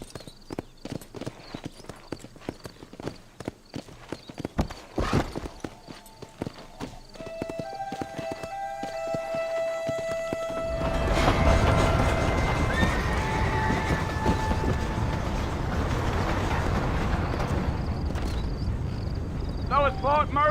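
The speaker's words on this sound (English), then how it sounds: "To spar your horse and move faster, tap left shift." A horse in the Wild West game Red Dead Redemption gallops with rapid rhythmic hoofbeats, then lets out a loud whinny before a denser rush of running hooves and background game sound takes over.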